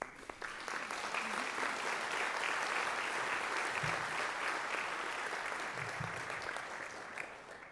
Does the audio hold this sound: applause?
yes